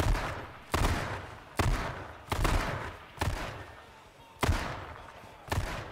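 Gunfire at a police car in a video game: about seven loud, evenly spaced shots, each with a booming tail that fades before the next, and no voices.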